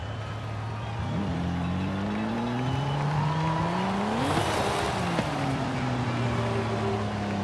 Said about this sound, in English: Let's just take a drive over and have a look.